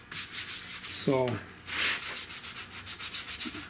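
Hand sanding a cracked car dashboard with 220 grit sandpaper, a close rhythmic rasping of quick back-and-forth strokes that runs steadily throughout, with a brief spoken word partway through.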